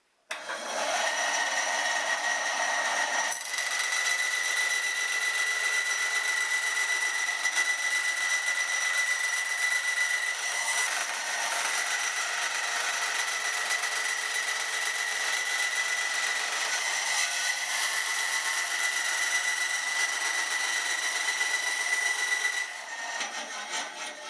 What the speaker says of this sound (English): we'll get this over to the bandsaw and get the bulk of it trimmed out